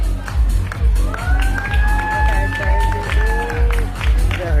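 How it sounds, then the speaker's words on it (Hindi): Loud audience clapping and cheering at a women's day celebration event for the AWPL staff, mixed with crowd noise, voices and a pounding rhythmic music beat underneath. "तो एक बार जोरदार तालियां हो जाए हमारे AWPL के स्टाफ के लिए।"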